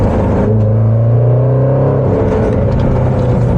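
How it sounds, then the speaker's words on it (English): A Jaguar F-PACE SVR's 550-horsepower engine rumbles loudly up close on the street, its deep exhaust note rising and falling as it revs and pulls. "And the exhaust, just hear it."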